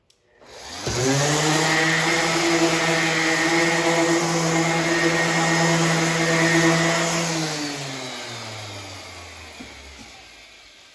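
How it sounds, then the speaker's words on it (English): An electric power sander works a wooden board for a barn quilt. It is a loud, steady motor whine that starts abruptly, holds for several seconds, then winds down with a falling pitch. "now I'm going to sand it before I start drawing out the barn quilt design"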